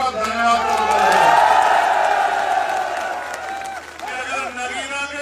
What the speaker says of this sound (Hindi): दोनों हाथ आगे ताली बजा के नगीना के लोगों का धन्यवाद करता है